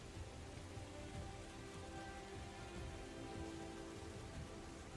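Steady rain pours down onto open ocean water, a dense, even hiss with no shelter overhead, continuous and fairly loud throughout with no voices.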